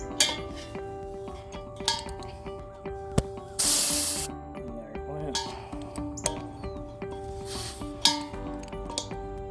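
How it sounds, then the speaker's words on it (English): Propane gas hisses out of a tank fitting as pressure is released, a short loud burst of spray followed later by a fainter second hiss, amid metallic clinks and handling under a steady hum, with a person talking. "until it releases the pressure, because the gas coming out of there is very, very cold"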